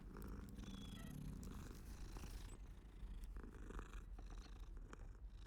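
A summoned cat purrs in the Hogwarts Legacy game, a soft, steady rumbling purr under a busy, fairly loud bed of game sound and small clicks, with nobody speaking.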